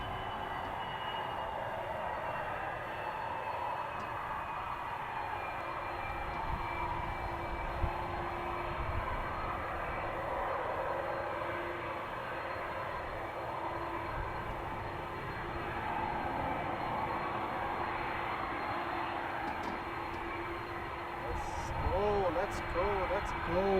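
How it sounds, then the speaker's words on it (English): A KLM jet airliner on flight 676 to Amsterdam passes at Edmonton International Airport, a sustained engine roar with a slowly falling whine that builds toward the end, with some voices around it. "here we have KLM flight 676 heading to, of course, Amsterdam."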